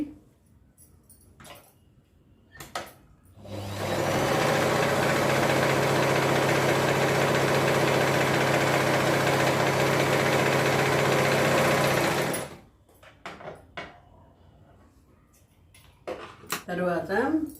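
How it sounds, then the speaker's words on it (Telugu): An electric sewing machine stitches the side seam of a Patiala salwar in one loud, steady whirring run of about nine seconds, with quieter handling noises before and after. "ఇలా పెట్టి కుట్టేస్తున్నానండి"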